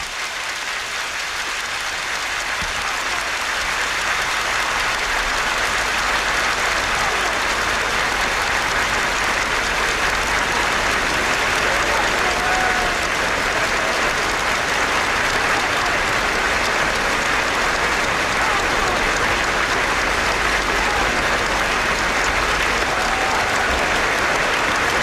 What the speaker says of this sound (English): A round of applause from everybody in the stadium.